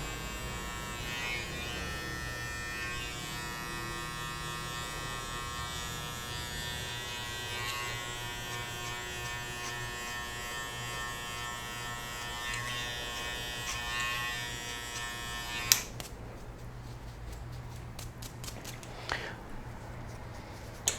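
Electric hair clipper runs with a steady close-up buzz while cutting hair for a flattop haircut, holding constant for about fifteen seconds before cutting out into a quieter room with a few faint clicks.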